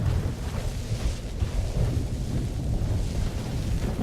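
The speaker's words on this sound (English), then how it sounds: "Lightning strike really close." Thunder from a nearby lightning strike in the Skyrim video game rolls as a heavy, continuous low rumble, sustained for several seconds with rain-like hiss above it.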